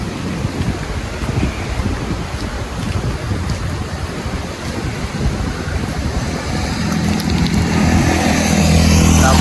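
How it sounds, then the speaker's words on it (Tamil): Loud sea waves crash on the shore in Jaffna during rain, a continuous heavy roar of surf mixed with wind buffeting the microphone, growing louder toward the end with no talking. "கடல் அவ்வளோ சத்தம்"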